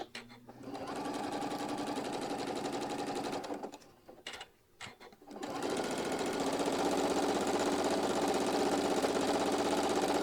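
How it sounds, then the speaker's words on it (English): A sewing machine runs a quarter-inch seam around fabric circles with a steady, close whirring hum. The stitching stops briefly partway through, then resumes and continues evenly. "we're going to do a 1/4 inch stitch all the way around on these circles right here"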